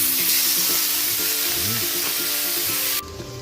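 Pork ribs for kaldereta drop into a hot pan and sizzle steadily, a broad hiss of frying fat with light stirring scrapes, close and continuous until it quiets near the end.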